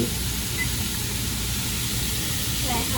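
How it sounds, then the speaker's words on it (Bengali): Potatoes frying in oil in a pan, cooked alongside luchi at a home breakfast, giving a steady close sizzle and hiss that runs without a break. "এর সাথে আমি এখানে আলু ভাজি"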